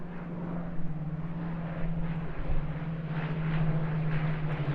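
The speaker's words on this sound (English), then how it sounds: "the victory roll from Al Lucking in the Hurricane, the mighty Lancaster quite rightly takes centre stage" A Hawker Hurricane fighter and an Avro Lancaster bomber fly over the Eastbourne International Airshow, their piston engines droning at a steady distant pitch that swells and fades slightly, with wind and crowd ambience beneath.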